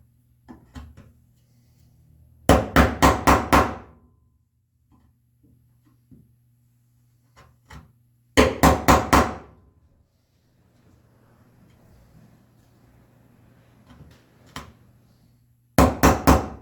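Three bursts of four or five sharp, evenly spaced mallet blows drive a hand chisel into walnut joinery, each burst loud and close, with quiet gaps and faint shuffling between them.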